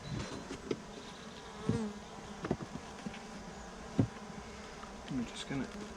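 Honeybees buzz softly in an opened hive during an inspection, a faint steady hum broken by a few light knocks and clicks of handling.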